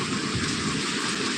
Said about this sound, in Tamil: செம்ம மழைங்க